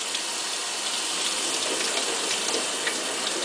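Tap water runs steadily into a sink while corn is being washed, a close, continuous hissing splash with no pauses.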